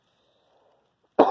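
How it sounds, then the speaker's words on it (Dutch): One short, sharp cough close by, breaking in abruptly after near silence. "hoesten, dat zijn symptomen van corona"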